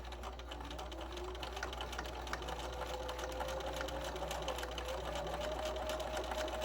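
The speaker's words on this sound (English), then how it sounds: "continue stitching a straight stitch along the extra tape" Sewing machine stitching a straight stitch along binding tape on a quilted potholder made from an old towel, a fast, even whirring drone with rapid needle clatter, close and continuous with a slowly rising motor tone.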